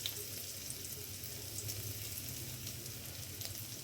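Chopped onion and garlic fry in very hot oil in a kadai for paneer cutlets, a steady, even crackling sizzle throughout, moderately close and with no voices.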